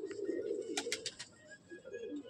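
Madrasi racing pigeons in a loft give soft, low, rolling coos, faint and close, with a brief burst of sharper clicks or flutters in the middle.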